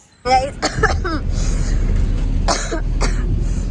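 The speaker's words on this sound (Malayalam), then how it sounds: "നല്ല ചുമയാണ് എനിക്ക്" A burst of harsh coughing close by, a few rough coughs in quick succession, followed by throat-clearing and raspy breathing.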